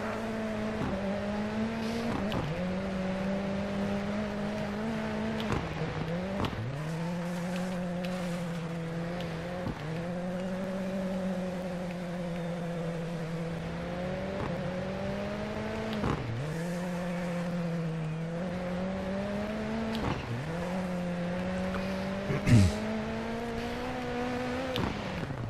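Rally cars race in the DiRT 4 rallycross event in France: a steady, droning engine note rises through the gears and drops sharply at each shift, repeating over and over, with a brief knock near the end.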